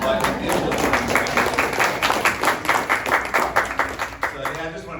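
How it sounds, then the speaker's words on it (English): Audience applause at a meeting, many hands clapping close and loud with a rhythmic pulse emerging in the second half, sustained for the full stretch. "I also want to give Brittany a round of applause"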